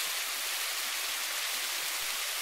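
Waterfall with runoff spilling over ice-covered rocks along a March trail at Rattlesnake Cobble, a steady, even rush of water with no voices and no break in the flow.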